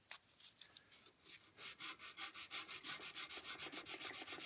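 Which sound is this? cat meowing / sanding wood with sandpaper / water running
sanding wood with sandpaper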